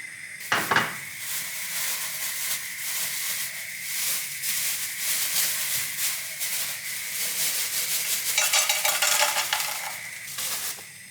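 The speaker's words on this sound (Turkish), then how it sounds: "tavaya biraz normal ayçiçek yağı koyuyorum" Onion and tomato paste fry in sunflower oil in a pan, giving a steady broadband sizzle with scraping stirs and occasional clinks of a utensil against the pan, no voices.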